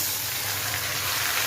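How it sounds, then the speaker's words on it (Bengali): Chicken poured into a hot pan of browned onions sizzles loudly in a steady, dense hiss of frying that stays even throughout, with no voices over it. "এবার আমি চিকেনটা ঢেলে দেবো।"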